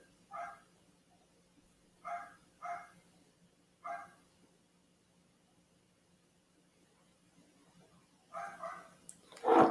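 Neighbors' dogs bark in the background in a few separated bursts, sometimes double barks, with quiet stretches between and a louder cluster near the end.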